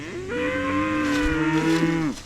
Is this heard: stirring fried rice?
no